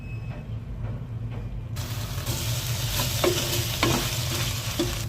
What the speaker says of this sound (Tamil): நல்லா கலந்து விடலாம். இந்த மாதிரி இதுல கொஞ்சமா கீ ஆட் பண்ணிக்கலாம்.